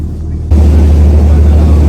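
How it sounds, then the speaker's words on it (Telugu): A whale-watching boat's low engine drones steadily off Iceland, starting abruptly partway through and holding a loud, even rumble until it cuts off at the end. "ఇప్పుడే స్టార్ట్ అయింది మన బోటు."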